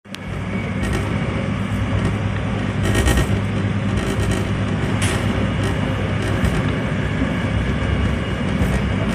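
A BART subway train runs fast between San Francisco and Daly City, filling the car with a loud, steady rumble and roar, with periodic louder rattling bursts from the wheels and track.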